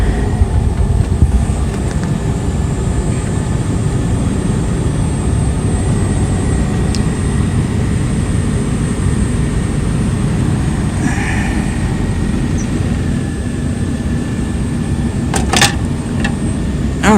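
A car engine idles at a Copart salvage yard in Southern California, a steady low rumble running evenly throughout with a few brief clicks and hisses near the end, no talking.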